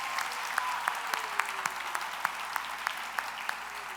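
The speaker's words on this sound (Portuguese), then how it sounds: "Vamos aplaudir Jesus pela nossa equipe aí com as crianças." A church congregation clapping in a steady, fairly rhythmic beat, moderately loud and roomy, with sharper individual claps standing out and a voice briefly heard underneath.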